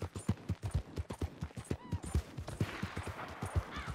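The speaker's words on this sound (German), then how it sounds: "Ja, diese bedrohlichen Schüsse in der Ferne." Distant gunfire in Red Dead Redemption 2, a western game, with scattered sharp shots and bursts popping irregularly through the whole stretch, moderately loud within the game's ambient soundscape, no talking.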